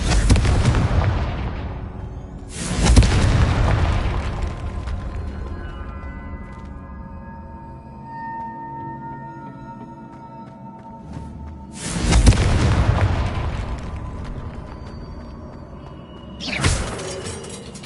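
The Confringo blasting spell explodes in Hogwarts Legacy, several loud booming blasts spaced seconds apart, each with a shattering crack and a long decaying tail over quiet game ambience.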